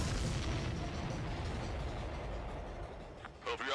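Supply ship blowing up in a sci-fi space combat video game, a dense roaring blast of explosions and rumble that fills the whole stretch, loud and continuous, tailing off with a short burst near the end.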